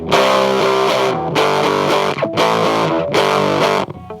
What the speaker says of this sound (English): power chords, you know, that's what you'd mostly be playing if you had this much distortion